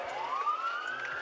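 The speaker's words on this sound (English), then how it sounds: "Sirens blared and lights flashed to alert pedestrians on both sides of the road." A police car siren wails during a high-speed chase, one steady rising-and-falling electronic tone that sweeps upward and holds, fairly loud and continuous with no talking.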